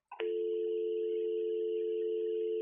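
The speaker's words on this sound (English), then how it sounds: "Now press hook and listen for dial tone." A short click as the hook is pressed on a Brother MFC-J5845DW or MFC-J5945DW fax machine, then a clear, continuous dial tone holds steadily at moderate level, with no other sounds.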